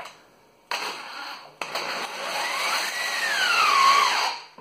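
A power drill fitted with a fat bit whirs in two bursts, the second a long run whose pitch drops as it bites into the material before spinning down.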